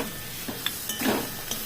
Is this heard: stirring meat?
yes